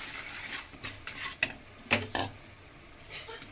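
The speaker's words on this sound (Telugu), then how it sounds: "గసాలు వేసి జస్ట్ అట్లా కలపండి చాలు." Poppy seeds stirred in a frying pan, with a spoon scraping and tapping the metal in a few separate sharp strokes and clinks, close and fairly quiet, with no talking.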